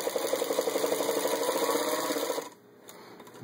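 A 1934 Singer 221-1 Featherweight sewing machine stitches forward quickly in a rapid, even mechanical chatter that stops sharply near the end, leaving quiet room tone.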